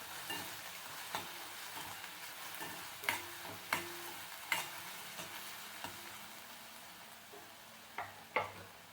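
Gram-flour farsan bhaji with asafoetida being stirred in a pan, a quiet sizzle under repeated sharp taps and scrapes of a spoon against the pan at an irregular pace.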